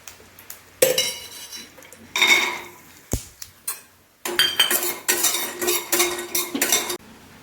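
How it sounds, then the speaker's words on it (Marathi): A metal spoon scrapes and clinks against a pan in bursts of stirring as dry fruits roast in ghee, with a soft sizzle underneath between the strokes. "थोडंसं तुपावर ड्रायफ्रुट्स भाजून घेऊया."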